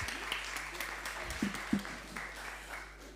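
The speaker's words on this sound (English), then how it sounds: "let's give him another round of applause" Audience at a heritage month lecture applauding, heard as sparse, fading claps scattered over a quiet hall, fairly distant and thin, with faint voices underneath.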